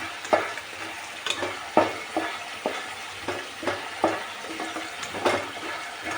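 Makhana (lotus seeds) frying in a pan, with a steady sizzle and repeated sharp scrapes and taps of stirring about every half second to second.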